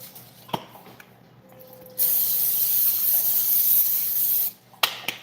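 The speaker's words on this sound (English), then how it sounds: "Of course, you need to spray your pan." A cooking-spray aerosol can of olive oil hisses onto a pan in one continuous spray lasting a couple of seconds, framed by clicks and light handling noises.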